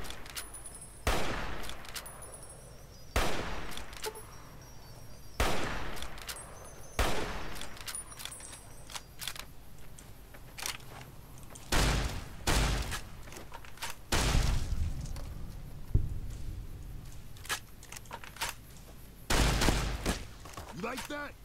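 Repeated gunshots fire at raiders in Fallout New Vegas, sharp loud cracks spaced a second or two apart, sometimes in quick pairs, over a steady game background.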